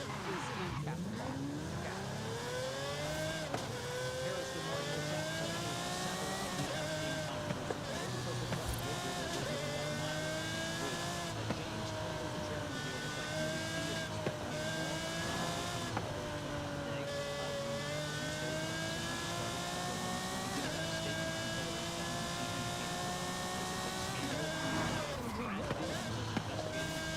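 A racing car engine revs and shifts continuously up close, its pitch repeatedly climbing through the gears, with occasional tire squeals and a voice talking over it.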